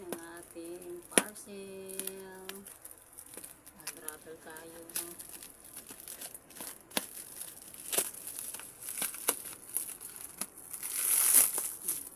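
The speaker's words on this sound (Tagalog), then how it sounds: "Unwrapping." A parcel is unwrapped by hand without scissors, with repeated crinkling and tearing of plastic packaging close by, and a voice talks briefly near the start.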